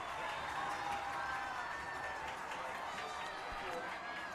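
A high school lacrosse crowd at an MIAA quarterfinal roars steadily, a dense, sustained wash of cheering with no breaks, heard at a distance with a voice faintly mixed in.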